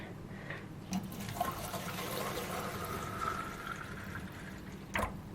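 Clean water pours steadily into a jar for rinsing watercolour brushes, a continuous trickling fill with a couple of small knocks near the start and end.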